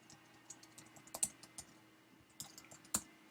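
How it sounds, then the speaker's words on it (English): Quick, irregular keystrokes on a computer keyboard, typing an email with a few louder taps mixed into a steady clatter, close-up, over a faint hum and no speech. "I'm just going to type in my email really quick here"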